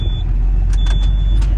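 A ranch pickup truck's engine runs steadily after a hard start, a loud low rumble filling the cabin, with a thin whine and a few short clicks and knocks on top.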